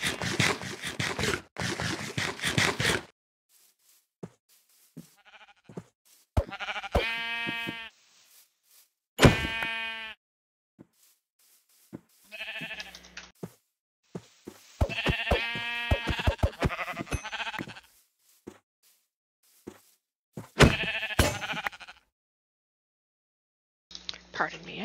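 Sheep in a blocky survival video game bleat in several separate wavering calls spread across the scene, with crunchy scraping game sounds in the pauses between them.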